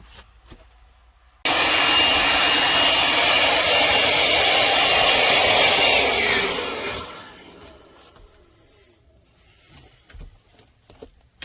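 A hand-held air blower blasts dust off the wiring in a GMC Vandura van with an LS engine swap, a loud steady rushing roar that cuts in abruptly, runs for about five seconds, then fades out into quiet shop clatter.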